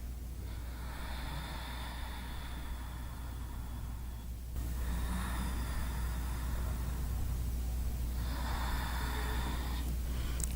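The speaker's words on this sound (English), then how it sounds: "Breathing." Slow, deep breathing during a beginner home yoga workout, with long airy inhales and exhales in three drawn-out waves over steady low background hum, close and fairly soft, no talking.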